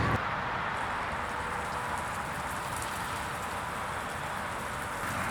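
Artificial rain rigged for a photo shoot pours in a dense, steady hiss of falling water, loud and unbroken for the whole stretch, with no speech.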